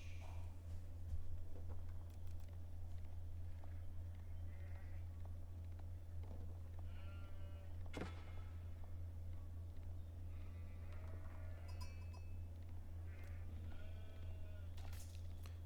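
Sheep bleat now and then in an Age of Empires IV match, short wavering calls scattered over a steady low game hum and ambient farm noise, with no voices.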